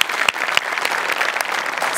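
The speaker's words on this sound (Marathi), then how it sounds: "जोरदार टाळ्या" Loud, dense applause from a studio audience at a Marathi comedy sketch show, continuous clapping with a few sharper claps standing out, close and filling the whole moment.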